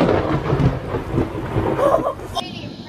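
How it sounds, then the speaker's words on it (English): Thunder crack from a lightning strike close by during a storm, a loud rumbling burst that fills the clip with heavy low roar over rain, ending in a sharp crackle before fading. "Lightning strike that strike right in front of me."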